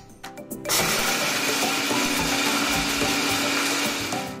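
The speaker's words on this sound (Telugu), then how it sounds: "వీటిని మనం మిక్సీ పట్టుకుందాం" A kitchen mixer grinder whirs loudly as it blends ginger and spices into powder for ginger-lemon rasam, starting after a few clatters and holding a steady, high-pitched motor whine through to the end.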